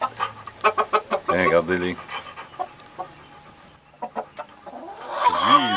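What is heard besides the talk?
new rooster and hens clucking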